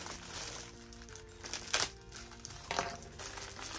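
Plastic bags and tissue paper crinkle and rustle at close range, with two sharper crackling bursts as wrapping is pulled open; no voices.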